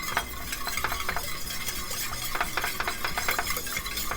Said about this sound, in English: We're going to whisk everything to combine